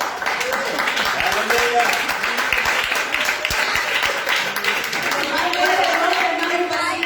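A church congregation claps during a sermon, with sharp claps scattered through a steady roar of applause while a voice keeps speaking over it.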